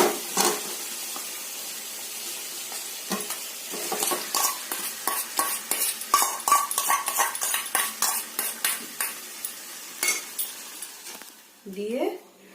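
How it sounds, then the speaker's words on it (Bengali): Marinated jackfruit is stirred with spices in a hot pan for a vegetarian biryani, the spatula scraping and clinking in a steady rhythm over a soft sizzle, with a brief voice near the end. "ওই মশলার সঙ্গে এঁচোড়গুলোকে ভালো করে নেড়ে চেড়ে মিশিয়ে নিয়ে"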